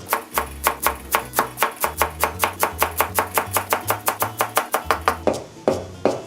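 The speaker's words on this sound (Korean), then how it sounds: "팽이버섯하고 맛살은 비슷하게 썰 거고 부추는 송송 썰어서 준비할 거거든요" A kitchen knife chops enoki mushrooms and crab sticks on a cutting board in quick, even strokes, a close, steady run of about thirty sharp knocks with only a brief pause near the end.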